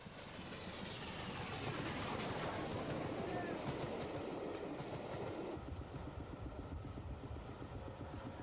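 A steam-hauled special train behind locomotive 60009 passes through Hitchin heading north, a loud, steady roar of wheels and rail clatter that swells and then eases as the coaches run by.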